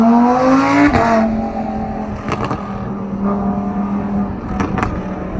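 A supercar, one of a Ferrari Pista, McLaren 720S and Lamborghini Performante, pulls away on a warm-up lap, its loud engine revving hard with sharp gear changes before the drone settles and carries on nearby.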